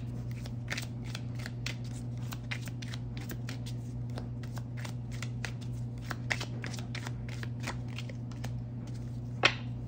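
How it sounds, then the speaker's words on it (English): Tarot cards shuffled by hand in a quiet room, a steady run of soft, rapid papery riffles and flicks ending in one sharper snap as a card is pulled, close and faint over a low hum. "Let me pull a card from here to clarify your most likely outcome."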